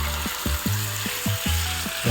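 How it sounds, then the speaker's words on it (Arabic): Chicken browning in a pan, a steady sizzle and crackle of frying running throughout, with repeated low knocks or stirring sounds every fraction of a second, no talking. "كنخليوه يتحمر."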